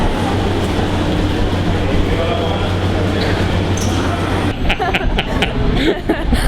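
A train arriving in Rome rumbles loudly and steadily close by, with sharp metallic clicks and rattles near the end.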